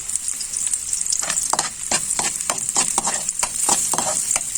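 Onion, garlic and ginger sautéing in a pan give a constant bright sizzle, with a rapid series of close scraping stirs from a utensil against the pan, no talking.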